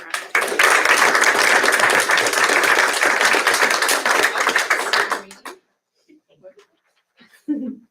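An audience at a school board meeting breaks into loud, dense applause that lasts about five seconds and then stops abruptly, leaving a quiet room with a few faint sounds.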